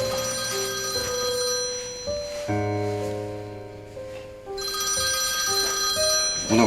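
A telephone rings with bright, sustained electronic tones in a shifting melodic pattern, fairly close and clear, pausing briefly midway before ringing on, with no voices over it.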